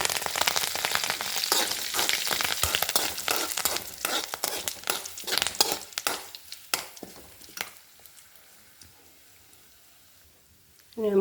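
Grated coconut and curry leaves crackling and sizzling in a hot pan, dense spattering bursts that thin out toward the end, with a voice talking over them.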